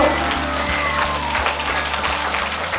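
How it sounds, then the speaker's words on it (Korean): Steady audience applause in a hall for webtoon artist Jeon Seon-wook, continuous and even for the whole stretch, with no talk over it. "여러분들께 좋은 얘기 주신 우리 전성욱 작가님께 다시 한번 큰 박수 부탁드리겠습니다."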